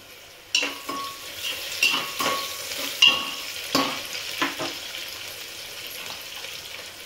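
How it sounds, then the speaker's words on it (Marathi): Onions fry in oil toward golden brown for pulao, a soft sizzle under repeated spoon stirs and scrapes against the pan, closely heard. "छान असा गोल्डन ब्राऊन होऊ द्यायचा कांदा आपल्याला"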